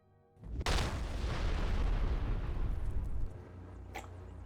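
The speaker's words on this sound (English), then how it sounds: "now that I've freaked out everyone in Falkreath with that big explosion" A big explosion in modded Skyrim erupts suddenly as a loud boom, then trails into a long rolling rumble that fades after about three seconds, followed by a faint sharp click.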